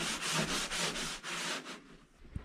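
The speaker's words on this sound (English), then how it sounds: "this is a sanding block right here. I'm just going to sand everything" A sanding block scrubs a dried drywall patch in quick back-and-forth strokes, around six close, rasping swipes in a steady rhythm, ending with a soft tap.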